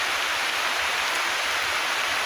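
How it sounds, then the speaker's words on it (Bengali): Steady rain falling on a pond outdoors in the rainy season, a dense, even hiss of drops across the water surface, continuous and fairly loud with no voices or other sounds. "এই যে দেখুন পুকুরের ভিতরে বৃষ্টি"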